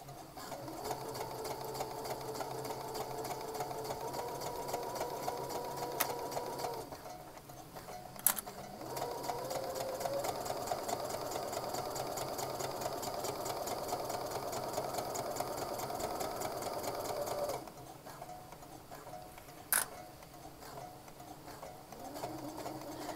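Sewing machine stitching a McCall's 8241 garment, running in long steady bursts with brief pauses and a couple of sharp clicks between runs, close and continuous.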